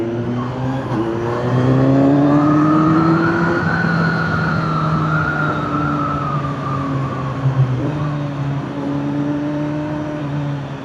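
A Kawasaki Z900 SE motorcycle engine is loud and close while riding, its pitch rising through the revs then dropping with gear shifts, steady wind and road noise beneath.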